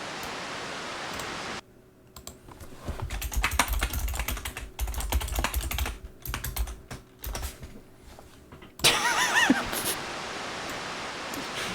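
Rapid keyboard typing with dense clicks and a low thumping undertone, running in uneven bursts with short pauses, fairly close and moderately loud; a steady hiss of background noise opens and closes the stretch.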